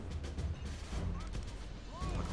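Musket volleys from soldiers on castle walls in Medieval II: Total War Kingdoms crackle as faint, distant, steady fire under the low rumble of battle, with a brief voice over it.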